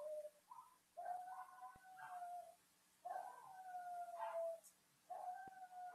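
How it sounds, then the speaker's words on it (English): Several neighbourhood dogs howl together in long wavering tones, three drawn-out rounds with short pauses between them, heard at a distance with no talking over them. "I don't know why they're howling right now"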